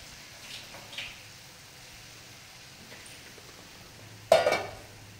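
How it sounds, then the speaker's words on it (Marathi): A spoon stirs a toor dal and onion mixture with hot water in a pot, making faint, sparse scrapes and soft clinks, then one sharper metallic clink near the end. "आता पुन्हा एकदा हे सगळं छान मिक्स करूया आणि याला उकळी येऊ देऊया 1 मिनिटभर"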